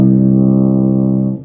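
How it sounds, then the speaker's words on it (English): A 6/4 size double C tuba plays its open note as one loud, low, steady sustained tone up close, which fades at the end with no talk over it. "My horn is a 6/4 size double C tuba."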